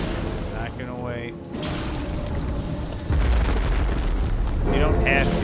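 Booming explosions go off in the video game Elden Ring, with a heavy low rumble swelling midway, while a voice talks over the blasts.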